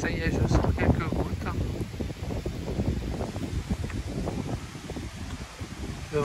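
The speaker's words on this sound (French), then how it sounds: "Le vent se lève." Gusty wind buffeting outdoors, rough blustery rushing that swells and dips, with rustling in the background.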